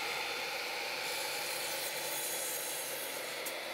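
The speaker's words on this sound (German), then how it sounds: "setzt ihr zuerst auf der einen Seite eurer Vierkanthölzer einen Sägeschnitt" A continuous, steady rasping of a saw cutting through square timber, close and even throughout, with no voices.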